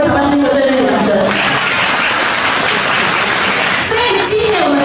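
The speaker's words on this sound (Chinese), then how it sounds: "是不是给我们立威台湾机会最热烈的掌声" Audience applause at an annual company gala in a hotel hall, a loud, dense burst of clapping throughout with a voice heard over it.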